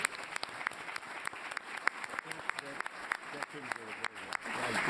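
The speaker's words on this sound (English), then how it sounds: "Can I have a round of applause?" Audience at a development forum applauding in a steady clatter of claps throughout, moderately close, with a voice speaking briefly over the clapping.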